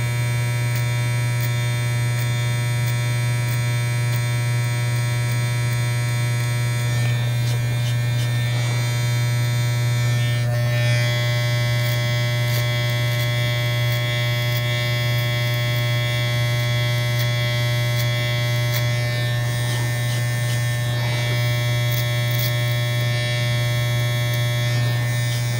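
Electric hair clippers cutting a taper fade, a loud steady motorized buzz held close and continuous, with slight shifts in tone as the blades move through hair.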